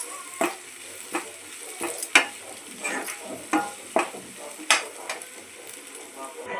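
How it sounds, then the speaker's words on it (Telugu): Ginger, garlic, onion, green chilies, tomato pieces and capsicum fry in a pan for veg manchurian, a soft continuous sizzle broken by regular scraping stirs of a spatula, close and clear. "టమాటా ముక్కలు క్యాప్సికమ్ కూడా వేసుకొని బాగా వేగనివ్వాలి."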